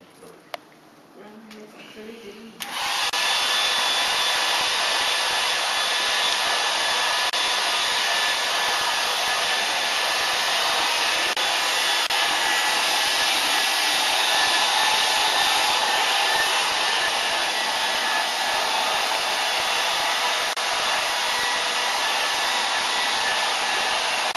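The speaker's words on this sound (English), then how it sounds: "I'm going to give this a quick blast with to air dry it." A hair dryer blows steadily on a watercolour painting, switching on after a couple of seconds of quiet and then holding a loud, even whooshing roar close up for the rest of the stretch.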